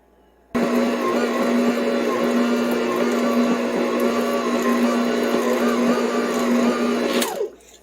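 An electric stand mixer kneads Italian bread dough, switching on abruptly with a steady loud whirring motor drone that holds evenly for about seven seconds before winding down.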